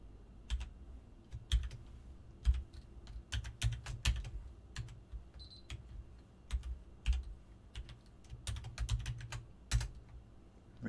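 Someone types a password on a computer keyboard while setting up a FreeBSD 11 server, clear close key clicks in uneven bursts and pauses, with no speech.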